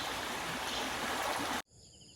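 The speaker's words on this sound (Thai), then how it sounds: "ตรงนี้น้ำไหลแรงมาก" Fast, strong stream water rushing loudly and steadily near a fishing spot, cutting off abruptly near the end, leaving a much quieter background.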